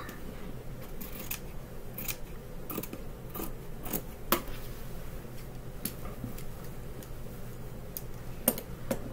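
Scissors snip steadily through fabric while a rag quilt is cut up, with crisp, repeated clicking cuts in an irregular rhythm over a low background hum.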